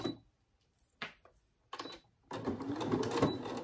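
A sewing machine stitching fabric half a centimetre from the edge, starting with a few short separate whirring bursts and then running steadily and close near the end, with no voices.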